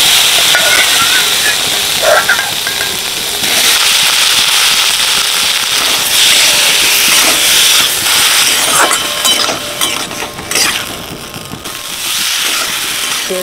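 Half-boiled potatoes hitting hot oil in a pan with turmeric and chilli powder, a loud, dense crackling sizzle that spits and pops steadily and close throughout, with no talk over it.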